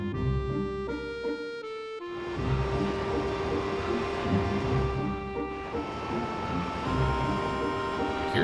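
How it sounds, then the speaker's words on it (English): Train in Final Fantasy VIII passing over rusty red dirt ground, a rumbling rolling wash that swells in after tonal game music, rising and easing in waves, no talk. "I hear a train."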